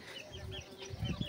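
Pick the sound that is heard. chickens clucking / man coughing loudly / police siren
chickens clucking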